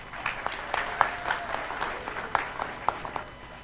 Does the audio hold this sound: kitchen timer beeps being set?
no